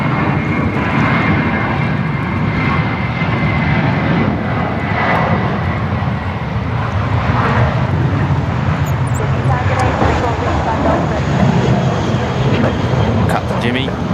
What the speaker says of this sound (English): So that's Jetstar 766 off to Adelaide. It's up pretty high already.